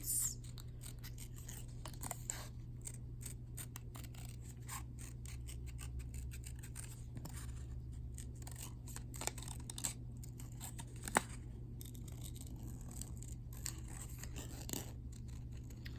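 Repeated small snipping and crisp clicks of scissors working through paper, close by and fairly quiet over a steady low hum, with no talking.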